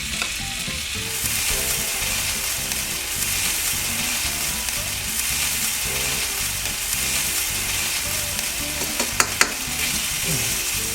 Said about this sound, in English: now we whisk